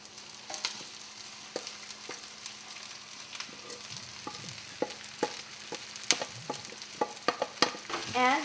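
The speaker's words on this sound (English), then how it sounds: "I think we're ready to add the rice now." Cooked rice stir-fried with scrambled eggs in a pan, a soft sizzle punctuated by sharp clicks and scrapes of a utensil against the pan, fairly quiet and close with no voices.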